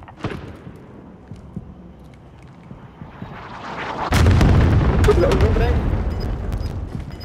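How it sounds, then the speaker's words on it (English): Explosions from an incoming bombing run in Call of Duty Warzone start with a sudden loud boom and then roll on as a dense, sustained barrage. Players talk faintly before the blasts. "Incoming bombing run!"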